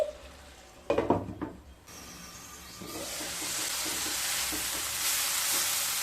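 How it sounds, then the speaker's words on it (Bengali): Spice paste (masala) frying in a pan with water for a raw-tomato katla fish curry; a few clanks of utensil on pan come first, then a steady sizzle builds and holds, near and fairly loud, with soft stirring scrapes. "এবার মশলাগুলোকে কষিয়ে নিয়ে তারপর ফিরে আসছি"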